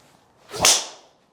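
Cobra DS Adapt driver striking a golf ball dead center, a single sharp crack that rings briefly then fades, heard alone and close.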